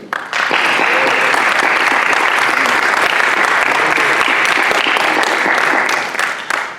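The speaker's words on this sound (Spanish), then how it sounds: "Un fuerte aplauso." Audience applause at an academic conference panel on documentary film and the social sciences: sustained, dense clapping that swells in quickly and holds steady for several seconds before tapering at the end.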